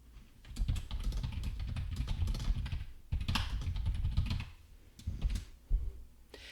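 Someone types a question on a computer keyboard, a close, busy clatter of keystrokes in two quick bursts with a short pause between them.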